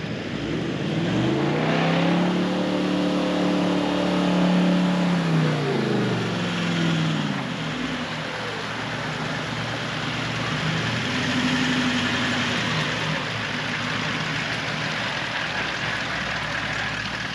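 An off-road car on a muddy track near Kalgoorlie revs through a puddle, its engine rising and falling loudly, then settles into a quieter running drone with a smaller rev later; no talking.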